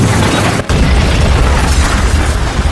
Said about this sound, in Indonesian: mobil yang dibawanya pun meledak